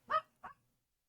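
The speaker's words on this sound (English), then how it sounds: "Apologies for the barking in the background." A dog barks twice in the background, a louder bark followed by a shorter, softer one, both fairly distant and alone without talk.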